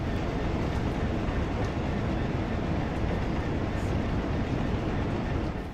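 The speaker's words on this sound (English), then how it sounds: "This train is scary." A train in the Train Sim World simulator rumbles along steadily with a loud, continuous roar and rattle, no break in the noise, while the driver is hard on the brakes.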